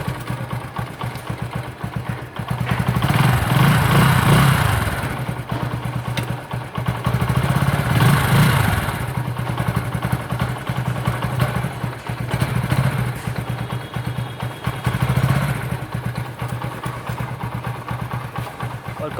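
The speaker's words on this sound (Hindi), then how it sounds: "आज ये मॉर्निंग का पहला स्टार्ट है, मैंने सुबह स्टार्ट नहीं करी थी" A motorcycle engine, freshly kick started after a carburetor cleaning, idles steadily and close by with a low thumping rumble, its revs swelling briefly several times before settling back to a steady idle.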